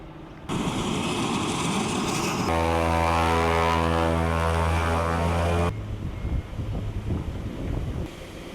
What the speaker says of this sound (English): the pilot will be on the roll down the runway